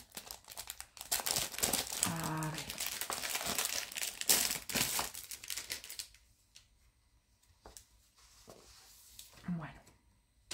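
Sheets of paper from an AliExpress craft package rustle and crinkle loudly and continuously up close, tapering into sparser handling noises, with a voice speaking at moments.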